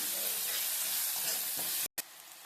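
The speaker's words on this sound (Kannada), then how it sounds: "ಸ್ವಲ್ಪ ಫ್ರೈ ಮಾಡ್ಕೋಬೇಕು" Chopped onion fries in a pan for a tomato curry, a dense continuous sizzle and crackle heard up close, cutting out sharply for an instant near the end before resuming.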